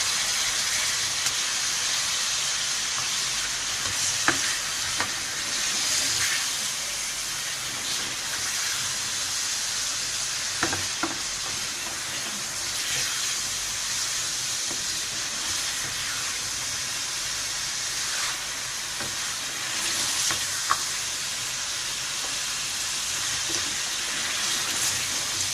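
Mutton pieces for achari gosht hitting a hot pan, giving a steady broadband sizzle and hiss that holds for the whole stretch with a few small spits and pops, fairly close and without talk.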